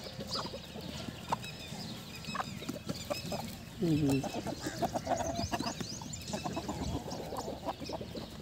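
Aseel chickens and a rooster cluck in an open free-range farm yard, a busy scatter of soft clucks and clipped calls over low background noise, with a brief murmured voice.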